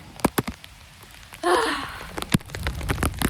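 Rain falling outdoors during Hurricane Milton, with scattered close drops hitting a surface and a brief heavier burst of rain noise swelling in the middle, no talk.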